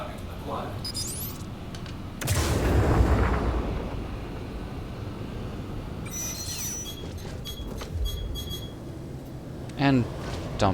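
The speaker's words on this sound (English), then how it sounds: "As you can see, we've fired one of our missiles" A missile launches from a Raptor X ship in the space game Star Citizen, flying through an asteroid field: a loud rushing whoosh and rumble that swells then fades, with scattered electronic blips and clicks afterward, all beneath steady talking.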